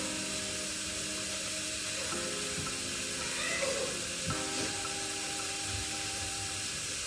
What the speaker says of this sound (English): I'm just going to add the water to the seasoning that we have right there and just mix it